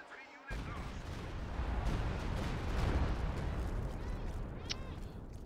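Mortar and gunfire crash through a Company of Heroes 2 battle, with 120mm mortars firing onto a road, a dense rolling barrage of loud blasts and shots filling the whole stretch after a brief quiet opening.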